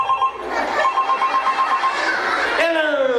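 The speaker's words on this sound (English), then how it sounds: "Give me that cell phone." A cell phone rings with a steady warbling electronic tone that pulses repeatedly, fairly loud and close, over people talking and a lively crowd at a conference lecture.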